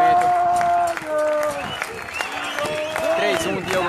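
Tennis crowd at an ITF doubles final in João Pessoa breaking into applause and cheers, a continuous loud burst of clapping beneath an excited commentator's voice.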